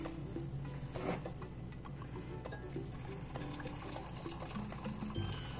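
Hot water pours from a just-boiled kettle into a measuring cup, two cups' worth, a steady continuous splash and trickle close by, with no talking.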